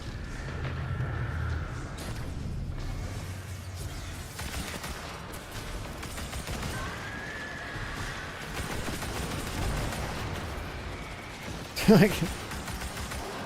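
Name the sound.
gunfire from a gun in the video game Destiny 2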